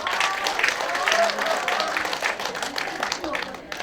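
An audience at a year-end gathering claps steadily before a Café Royal coffee demonstration, a dense patter of many hands that holds for several seconds before tapering slightly.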